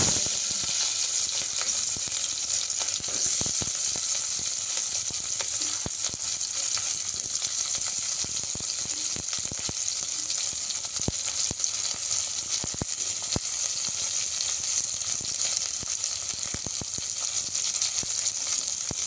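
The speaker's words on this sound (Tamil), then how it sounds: "கடுகு பொரியுது" Steady, dense crackling sizzle of mustard seeds spluttering in hot oil while cooking a sorrel-leaf dish, continuous and close throughout with tiny popping bursts and no voices.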